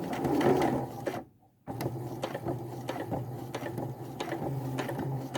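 A sewing machine stitches a straight line slowly, making a steady rapid mechanical clatter up close with one brief pause before it runs on.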